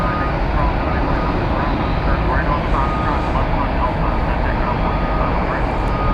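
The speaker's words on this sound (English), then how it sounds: "American flight 496 from Austin, 737-800." An American Airlines Boeing 737-800 arriving from Austin produces a continuous loud jet roar at Dallas/Fort Worth airport, dense and unbroken, with faint talk mixed in.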